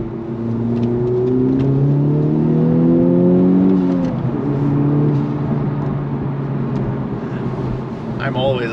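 A Honda Type R accelerating hard onto a highway, the engine note climbing loud and close for a few seconds before the gear changes and the pitch settles, with a person talking over it.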